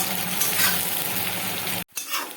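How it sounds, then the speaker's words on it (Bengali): Onions fry on a medium flame in a pan, a steady close sizzle that cuts out abruptly for a moment before resuming. "মিডিয়াম ফ্লেমে রেখে পেঁয়াজটাকে আমি ভাজতে থাকবো"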